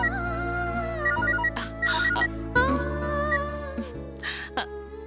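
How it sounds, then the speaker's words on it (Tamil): Mobile phone ringing with an incoming call: a looping electronic ringtone melody plays close and clear for several seconds, with a few brief noise bursts and no talking. "ஐயோ, லாட்ஜ்ல இருந்து தான் கூப்பிடுறாங்க"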